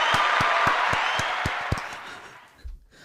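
A studio audience claps in a quick, even burst of about seven sharp claps. The clapping fades out, followed by a brief low thump.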